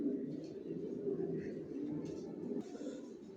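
Racing pigeons cooing softly in a loft, a low continuous murmur of cooing from several birds, faint and steady, with background voices mixed in.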